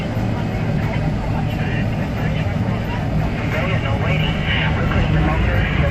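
A 2015 Peterbilt 579 truck with an MX-13 engine and Eaton 10-speed transmission on the road, its steady loud engine drone and road rumble filling the cab as it pulls through the gears, with voices talking over it.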